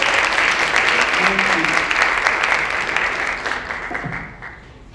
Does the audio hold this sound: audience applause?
yes